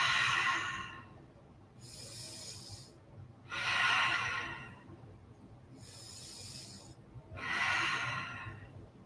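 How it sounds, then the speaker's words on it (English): Slow, deep breathing during a calm yoga session: long airy inhales and exhales alternating in a steady rhythm, close and soft, with no talking. "Close your eyes and let's take a couple breaths here."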